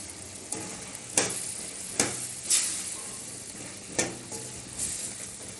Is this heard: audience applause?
no